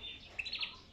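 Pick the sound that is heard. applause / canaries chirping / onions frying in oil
canaries chirping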